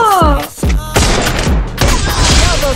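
Loud, punchy gunshots in a mobile shooter game, a handful of sharp separate blasts with heavy thumps and a short burst near the end, close and forceful.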